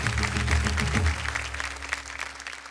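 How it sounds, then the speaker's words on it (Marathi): An audience at a Marathi kirtan competition breaks into warm applause that holds strong and then thins out. Music plays underneath the clapping. "जोरदार टाळ्या झाल्या पाहिजे त्यांच्यासाठी"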